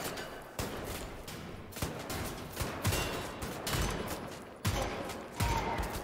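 Repeated loud shotgun blasts from the video game Wolfenstein: The New Order, several booming shots with ricocheting shells in irregular succession, each followed by a sustained noisy tail.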